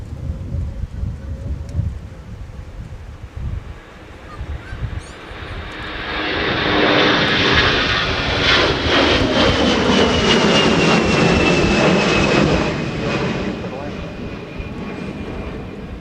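A 24-year-old Airbus A320 in Northwest colours, flying as Delta, departs Minneapolis–St. Paul Airport. A low, distant rumble swells into a loud, sustained jet-engine roar that peaks midway, then eases slightly while staying strong to the end.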